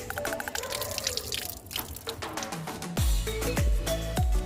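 Two okra pods are rinsed under water in a kitchen, with irregular trickling and dripping splashes close by, followed by a few sharper knocks and taps as the pods are handled.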